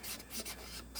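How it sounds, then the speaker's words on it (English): Paper edges rubbed with an ink pad while making a Valentine journal, soft close scuffing strokes in short repeated passes, faint and alone. "I ink the edges"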